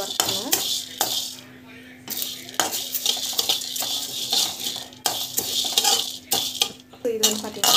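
Curry leaves dry-roast in a pan while a metal spoon stirs them, giving repeated sharp clinks and scrapes in an uneven rhythm over a faint steady hum, close and fairly loud.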